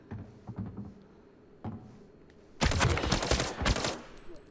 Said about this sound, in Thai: เสียงปืนมันจะแบบกล้องๆนะทุกคน กังวานมากนะ